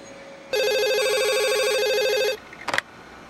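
A telephone rings in one steady, unbroken tone for nearly two seconds, then a few quick handling clicks follow.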